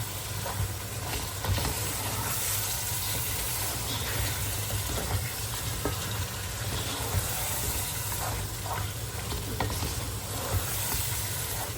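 Okra sizzling and being stirred in a pan with masala during home cooking, a steady frying hiss with scraping stirs throughout, fairly close, with no talking.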